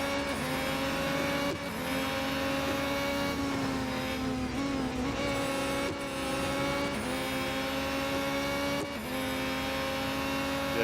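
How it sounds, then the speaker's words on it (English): Race cars in the Real Racing 3 mobile racing game roar past, their steady high engine whine holding loud and close. Several gear shifts and passing surges break up the drone throughout, with no voices. "These guys must have fully upgraded cars because they're just flying by me."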